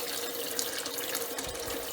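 Tap water runs steadily and close while a rock tumbler barrel used for cleaning dirty coins is rinsed out, a continuous splashing wash with no voices.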